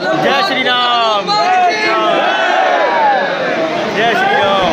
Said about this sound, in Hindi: तो गाइस कितनी भीड़ है भाई